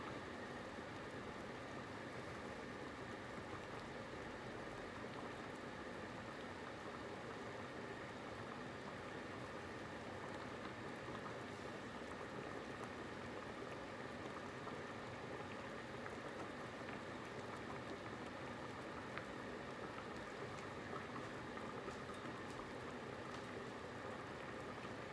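Ottogi japchae noodles boil in a pot of water with a faint, even bubbling and hissing that holds steady throughout, with no talking.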